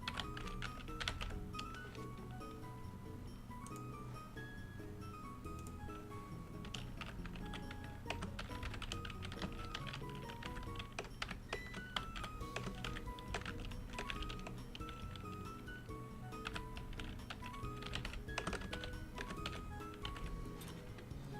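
Computer keyboard typing continues steadily throughout, a dense run of quick key clicks over a constant background hum, with no talk.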